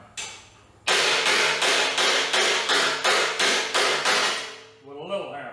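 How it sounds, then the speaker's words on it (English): Loud, steady hammer blows with a small hammer strike rusty sheet metal for a rat rod sun visor about nine times in an even rhythm, each ringing briefly before the next, ending with a short squeak. "With a little hammer."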